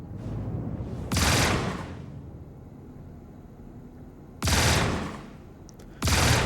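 Rapid automatic gunfire in the Star Citizen video game comes in three separate bursts, each a dense, loud crackling stream lasting about a second, with quiet gaps between them.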